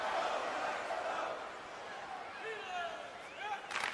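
A hockey arena crowd in a video game keeps up a steady, broad roar from start to finish, with commentary carrying over the top.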